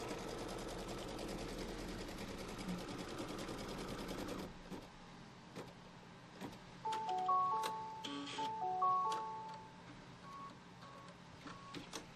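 An embroidery machine stitches a Pumpkins & Potions quilt block in the hoop with a dense, steady mechanical chatter for several seconds, followed by quieter clicks and a few short electronic beeps.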